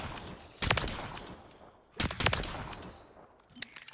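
Guns fire in a Call of Duty Black Ops 3 custom zombies map: two sharp bursts of rapid shots a second or so apart, each with a fading echo, at moderate volume with no talk.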